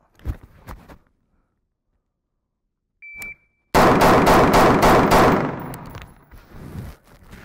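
Rapid strings of gunfire from shooting practice with a timer, a short electronic beep followed by a dense burst of closely spaced shots, loud and near, with brief talk before.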